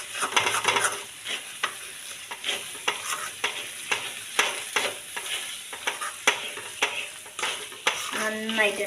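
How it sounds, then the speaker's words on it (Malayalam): Spices such as Kashmiri chilli, turmeric, coriander powder and chicken masala being stirred into frying chicken curry in a pan, with a steady sizzle and repeated scraping strokes of the spoon, close and alone. "നന്നായിട്ട് ഇളക്കി കൊടുക്കാം."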